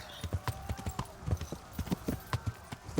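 Horse galloping in the medieval game Kingdom Come: Deliverance, a quick steady run of hoof clip-clops with faint game ambience underneath, moderately soft and continuous.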